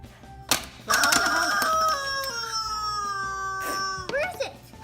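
A toy chicken from the Squawk egg game lets out a long, harmonic squawk close by, with brief family chatter before and after.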